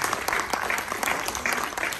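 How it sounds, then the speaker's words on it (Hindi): Audience applause at a World Hindi Day gathering in Tokyo, Japan: dense, steady clapping from many hands fills the whole stretch at moderate loudness, with no voices over it. "फिर मास्टर हार्दिक का जोरदार ताली हो जाइए।"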